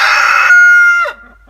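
A chicken crows loudly and close by, a raised cock-a-doodle-doo call from a backyard flock of young birds about three or four months old, trailing off into quiet within about a second.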